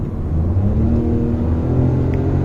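Hyundai i20 N Line hot hatchback engine blipping on a downshift, a steady loud mid-pitched drone that stays close and continuous for the whole stretch, with no talk over it.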